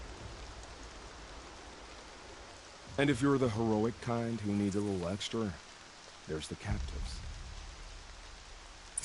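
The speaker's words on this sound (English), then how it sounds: "I think it's been raining for the entire hour I've been playing." Steady rain hisses throughout in Horizon Zero Dawn, a continuous soft wash of falling drops in the Nora Sacred Wilds, with a character speaking over it partway through.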